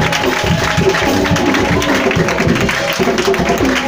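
A church congregation claps and acclaims during a worship service, a dense, steady crowd applause with voices mixed in, loud and close throughout.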